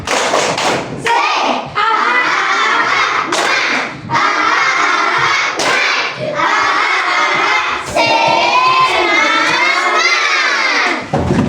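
A classroom of standing students performs the 'tepuk semangat' clapping chant, rhythmic hand claps and thumps mixed with loud shouted chanting voices, steady and energetic throughout with brief pauses between phrases.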